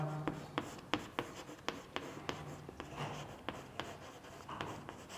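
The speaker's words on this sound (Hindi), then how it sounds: "एग्जाम्पल लिख रहा हूं" Chalk or marker tapping and scraping on a classroom board while an English example is written, a steady series of short sharp strokes close by, with no talking.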